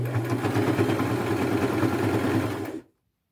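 A sewing machine runs a small straight stitch along a quarter-inch seam on a boho kimono made from thrifted fabric. It gives a steady, close mechanical whir that continues without a break, then stops abruptly near the end.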